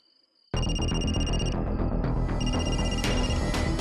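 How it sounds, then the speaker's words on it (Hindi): A telephone suddenly starts ringing loudly, a continuous electronic ringtone with layered tones that persists through to the end. "ठाकुर साहब का फोन आ गया"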